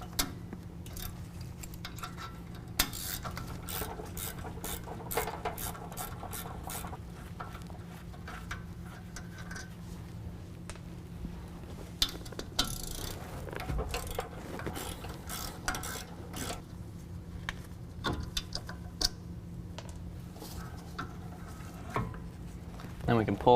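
Ratchet loosening the two 16mm caliper bolts on a truck's rear brake, a quiet run of irregular clicks and metallic taps against a low steady hum, close by, with no talk over it.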